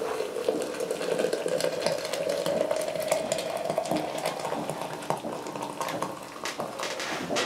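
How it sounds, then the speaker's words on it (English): Boiling water pours and splashes steadily into a container with a rising tone as it fills for steaming a sticky toffee pudding, accompanied by light clinks and bubbling, no speech. "I have boiling water to put in."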